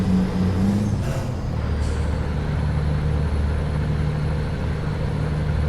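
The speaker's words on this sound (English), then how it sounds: "Yes, we have got a handbrake" A truck's air brake in Euro Truck Simulator 2 releases with a sharp, loud hiss over a steady low diesel engine drone, followed by a second shorter hiss, the engine rumbling on alone afterward.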